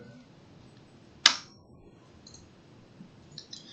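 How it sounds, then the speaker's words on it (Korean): A single sharp computer mouse click stands out against a quiet room, followed by a few fainter small ticks near the end. "얘를 클릭 한번 해주세요"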